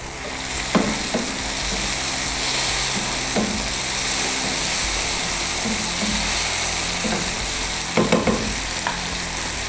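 Eggs for egg khagina sizzle steadily in a pan over a high flame, a continuous close frying hiss broken by a few sharp scrapes and taps of stirring, with no talking.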